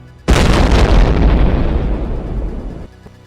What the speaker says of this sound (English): the concussive explosions shattering the remainder of the diner.